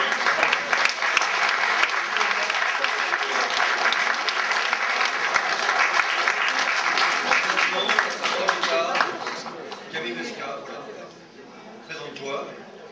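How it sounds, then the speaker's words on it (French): Sustained applause from an audience at a 75th birthday celebration, a steady wash of many hands clapping that gradually thins and fades toward the end. "Alors on applaudit."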